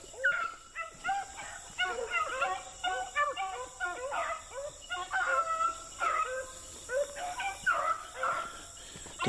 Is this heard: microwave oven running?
no